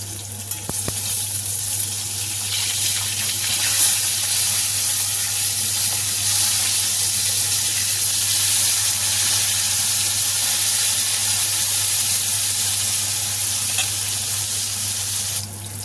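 Steady, loud sizzling and crackling of bhetki fish frying in hot oil, with a constant hiss and a low hum underneath throughout.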